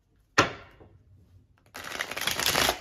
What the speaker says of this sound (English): Why is this deck not shuffling?